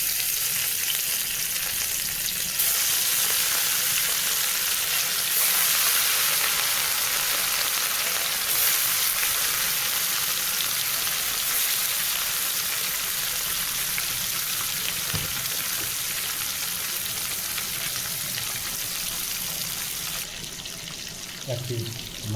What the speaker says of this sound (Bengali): তেলটা হিট হয়ে আসছে, এখন আমি মাছগুলো দিয়ে দিব।